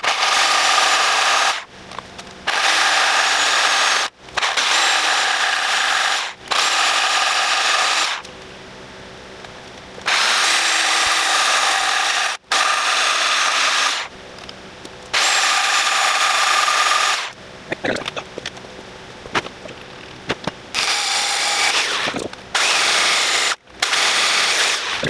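A power tool runs with a grinding stone on metal in repeated bursts of a few seconds each, separated by short pauses, close and fairly steady.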